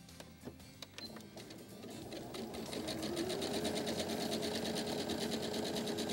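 A sewing machine stitches a pillow, running a steady fast mechanical whir that starts lighter and grows louder and denser, with a few clicks early on as the stitching shifts into reverse.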